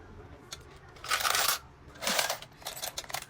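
Coins are dropped into a coin bank in a few separate bursts of metallic clinking and rattling, fairly faint, with quiet room noise between the drops.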